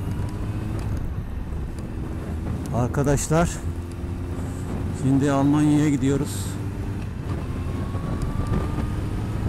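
Strong wind buffets the microphone of a camera on a moving car in a constant low roar while someone speaks briefly over it, with road and engine noise underneath.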